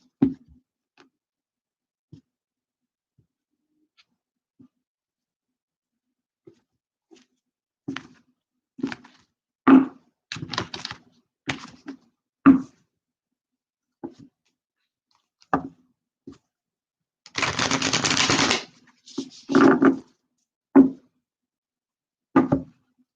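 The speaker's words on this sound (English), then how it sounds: "Just a few more shuffles here, Virgos" Tarot cards shuffled by hand in a quiet room, a string of brief soft riffling clicks and taps spread unevenly, with one longer, louder riffle burst near the end.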